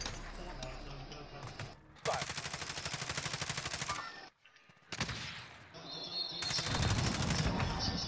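Loud bursts of automatic gunfire in Call of Duty: Modern Warfare Warzone, rapid sustained volleys separated by short pauses, with players talking over the shooting.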